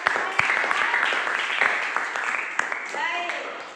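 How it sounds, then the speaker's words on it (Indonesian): A primary school class of sixth graders in Indonesia claps briefly, with sharp, uneven hand claps rattling over a background of children's voices. The sound is moderately close in the classroom. "Tepuk tangan dulu."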